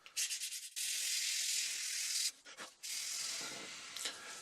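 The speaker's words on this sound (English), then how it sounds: "I was sanding on this for about 25-30 seconds ish" Close-up sanding of a leather edge: long, steady abrasive rasps of fine sandpaper rubbing back and forth, broken by brief pauses.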